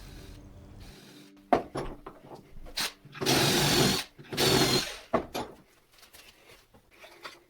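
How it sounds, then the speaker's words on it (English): Short bursts of a barrel trimmer squaring a wooden pen blank, two longer whirring passes with scraping and knocks between them, fairly close. "Then I could take it back inside and square it up using a barrel trimmer."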